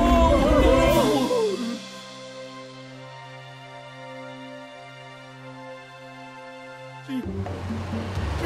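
Cartoon sound effect of water leaking and gushing, a loud rushing splash at first that fades into a steady droning flow with a low hum, then a sudden burst of rushing noise near the end.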